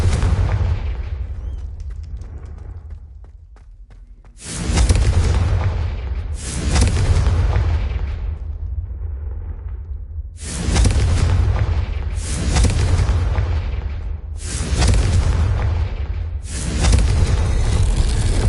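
Repeated Confringo blast-curse explosions boom in Hogwarts Legacy, five or six loud, deep detonations spaced a second or two apart, each with a rumbling decay, after an opening stretch of fading rumble.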